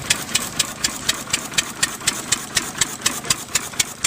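A vintage spark-ignition stationary engine with a magneto runs at a steam fair, beating out a steady, evenly spaced chuffing knock about four times a second, close by and moderately loud over outdoor background noise, with no talk.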